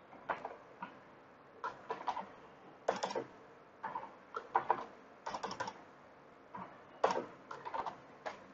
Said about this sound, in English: Before search, you have to type first